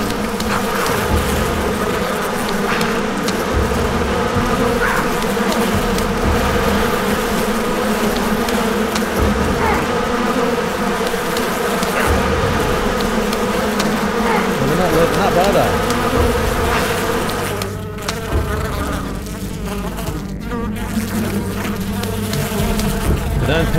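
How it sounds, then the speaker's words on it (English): Loud, continuous buzzing of a bee swarm in the video game BigFoot: The Hunt, dense and close throughout with a faint voice under it. "Oh, the bees."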